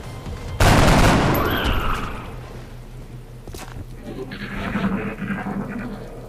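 Soldiers fire weapons in the video game XCOM: Enemy Unknown, a sudden loud burst of gunfire that rings out and decays over a couple of seconds, followed by quieter game sounds and movement.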